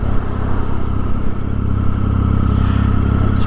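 A Triumph Street Triple motorcycle being ridden on the road, its engine droning loud and steady for the whole stretch, mixed with strong wind rush, with no voices.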